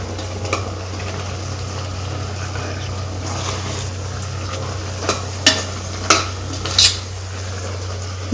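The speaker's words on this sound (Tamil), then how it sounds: "மசாலாவோட பச்சை வாசனை போகிற வரையும் நல்லா கலரிடுவோங்க" A spoon scrapes and clinks in a pan as mutton curry masala is stirred for vathu kari gravy, with a steady low hum underneath and a few sharp metallic knocks toward the end.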